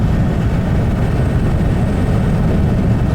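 A 1941 Cadillac custom limousine cruising along, its low, steady engine rumble and road roar filling the cabin without a break and with no voices over it.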